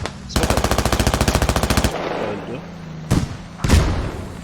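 Automatic gunfire from the military shooter Squad: a fast, loud burst of rounds for about a second and a half, followed by two separate heavy booming shots, with no talk over it.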